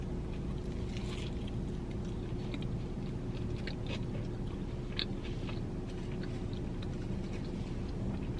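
Close, crunchy bites and chewing of a Culver's Buttery Parmesan Pub Burger topped with Parmesan crisps, heard as small irregular crackles over a steady low rumbling background with no talk.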